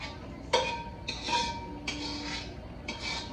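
Small baby spoon clinking among dishes in a kitchen, four or five distinct bright metallic clinks and scrapes at irregular intervals, close and clear with no talk.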